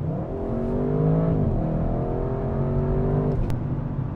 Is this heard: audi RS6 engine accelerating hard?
yes